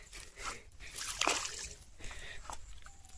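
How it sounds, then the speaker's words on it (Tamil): Footsteps wading through water, several sloshing splashes in an uneven walking rhythm, close and moderately loud, with faint voices in the background. "தண்ணியில் நடந்து போகிறேன்."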